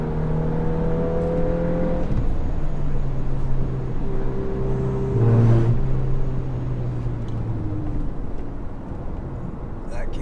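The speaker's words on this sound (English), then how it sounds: "turbo noises, you get a few pops out the back" A Volkswagen Golf R, eighth generation, accelerates hard with a steady engine drone and whirring turbo, pitch holding then swelling mid-run as it pulls away, loud and close throughout.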